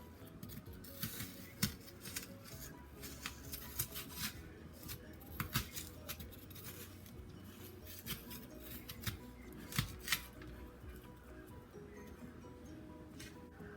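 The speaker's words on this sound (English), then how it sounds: "So using my spoon, or you can use a melon scooper, we're just going to scoop out the seeds." A spoon scoops seeds out of halved apples, producing faint, soft scraping and crunching taps at an irregular rhythm over a quiet background hum, with no talk.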